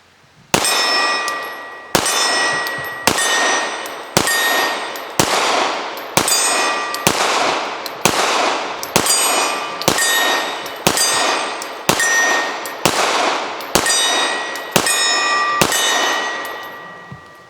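Smith & Wesson M&P Compact 2.0 pistol emptying a full magazine at steel targets: about fifteen sharp shots at a steady pace, each followed by a ringing metallic clang from the steel, loud and close with no talking.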